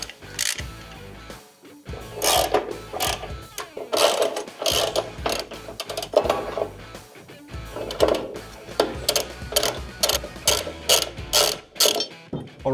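Hand tools working on the front sway bar of a Nissan GQ/GU Patrol 4WD, with rapid ratchet clicking in repeated bursts, metallic clanks and rattles, close and fairly loud with no talking.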